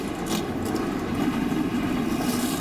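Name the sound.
IndyCar race car engines roaring at Indianapolis Motor Speedway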